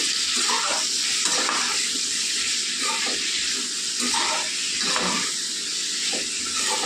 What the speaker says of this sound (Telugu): కలిపేసుకుని మూత పెట్టి మగ్గించుకుందాం మెత్తగా మగ్గే వరకు